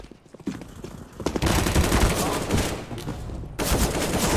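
Gunfire in Counter-Strike: Global Offensive: dense, loud bursts of shots starting after a quiet half-second and running almost continuously, with a brief dip before a final heavy volley.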